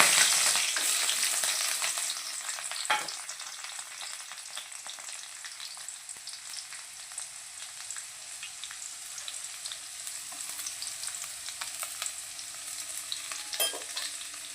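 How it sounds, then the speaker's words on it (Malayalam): Curry leaves and shallots fry in a pan with a bright, hissing sizzle that starts loud and settles to a steady crackle, broken by a few sharp stirring scrapes. "കറിവേപ്പിൻ്റെ ഇലയും ചെറിയുള്ളിയും കൂടി നമുക്ക് മൂപ്പിക്കാം"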